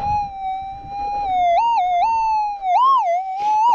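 GPZ 7000 metal detector sweeping a gold patch near Kalgoorlie gives a steady electronic tone that warbles upward in several distinct bursts as it passes over a deep target, clear and alone.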